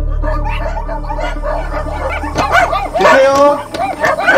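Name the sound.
dozens of dogs barking in a container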